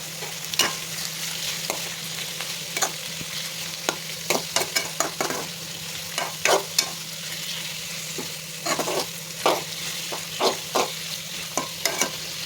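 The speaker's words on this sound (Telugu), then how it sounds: "ఇలా కొద్దిగా సేపే ఆనియన్స్లో పచ్చిరొయ్యలు రెండు కలిపి ఉడికితే టేస్ట్ మంచిగా వస్తుంది" Raw prawns and onions sizzle steadily in a pan while a utensil stirs them in irregular scraping clatters, close up with no talking.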